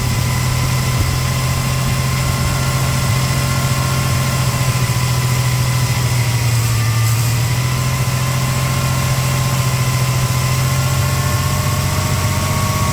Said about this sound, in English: Idling, it's rough. This gas is bad.